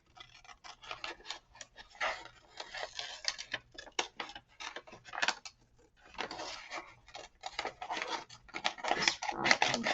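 Scissors cut through folded paper along the outline of a vase shape, crisp snipping and crunching in irregular bursts, close up with brief pauses between cuts.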